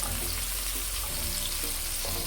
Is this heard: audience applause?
no